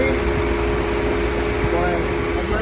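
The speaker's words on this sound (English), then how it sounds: "I'm letting the engine warm up to around 200." A Jeep 392 V8 idles steadily while warming up during a coolant flush, a constant close-range engine drone with a faint tonal whine on top.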